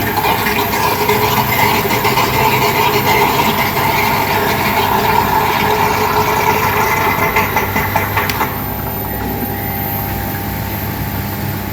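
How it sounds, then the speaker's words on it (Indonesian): Submersible water pump running steadily after being switched on, a loud continuous motor hum with watery churn that eases slightly near the end. "saya nyalakan lagi, pompa ini hidup banget"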